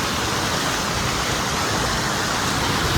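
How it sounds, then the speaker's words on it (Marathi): Floodwater rushes past a village bridge submerged by heavy monsoon flooding, a steady, dense roar of turbulent water filling the whole span without pause, close and loud, with no voices. "हे बघा इकडं पूल ना, तिकडं पाणी असलं चाललं आहे ना, इकडं पण पाणी आलंय."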